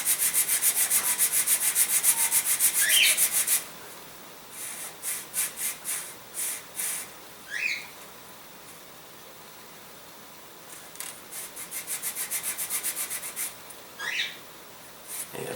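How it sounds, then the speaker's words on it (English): Sandpaper rubs against a model aircraft fuselage, shaped to mate with the tail boom: a steady near scraping for a few seconds, then short separate strokes and another run of rhythmic rubbing, with no talking. "we are going to sand this guy so that it is nice and curved to mate in with our tail boom"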